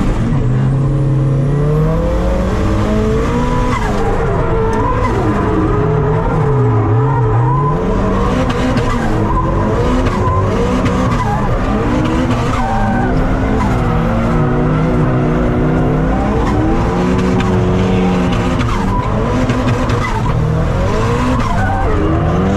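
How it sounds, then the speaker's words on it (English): A drift car skidding through a run with continuous loud tire squeal and a roaring, revving engine whose pitch rises and falls as it slides, close and sustained for over twenty seconds with no talking. "I definitely feel like I went backwards coming from the drift car to now."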